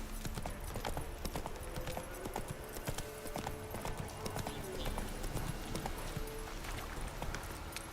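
Horse in the video game The Witcher 3 galloping with fast, continuous hoof clip-clops, heard steadily throughout at moderate level under faint game ambience.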